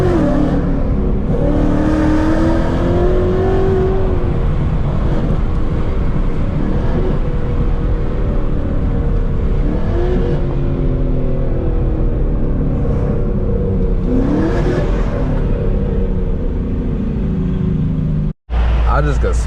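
Mustang GT fitted with Texas Speed longtube headers accelerating hard from inside the car, a loud continuous engine roar with rising pitch sweeps through repeated pulls, a brief dropout near the end.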